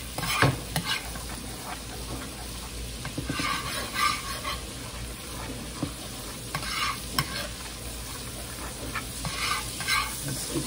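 Garlic and shrimp frying in a pan, stirred continuously, a constant sizzle broken by repeated scraping and clattering spatula strokes, close and clear with no talking.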